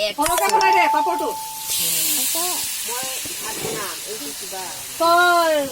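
Hot water hits a hot frying pan with a loud, close hissing sizzle that swells at the start and surges again near the end, while people talk over it.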